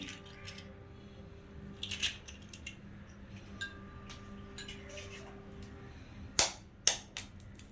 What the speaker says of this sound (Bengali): আমি ডিমটাকে ফাটিয়ে নিচ্ছি